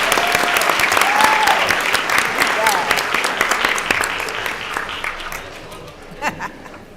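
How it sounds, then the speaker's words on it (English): Loud audience applause for students and staff at a school board meeting, dense clapping with scattered laughter and chatter that thins out and fades toward the end. "Can we get another round of applause for all of our students and staff?"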